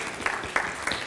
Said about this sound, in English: let's give Woodville a round of applause